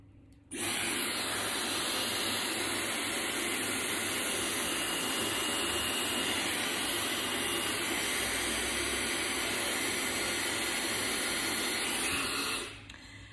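A hair dryer blows hot air through hair wound around a round brush, switching on abruptly and holding a loud, steady whooshing hiss close by for about twelve seconds before cutting off.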